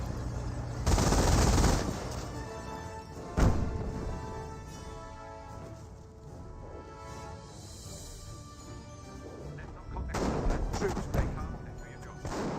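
Battle gunfire from the World War II strategy game Company of Heroes, with two dense bursts of rapid shots and one sharp blast in between, under an ongoing game soundtrack while someone talks.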